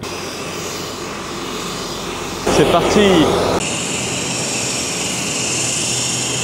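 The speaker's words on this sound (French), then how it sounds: "Ouais, le jet privé les gars" A small private jet's engines roar steadily at close range during takeoff, with a brief burst of louder, shifting noise partway through and people talking over it.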